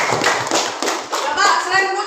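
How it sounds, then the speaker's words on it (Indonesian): A classroom of students claps for a classmate, a loud burst of many hands applauding close by for about two seconds. "tepuk tangan dulu untuk Putri"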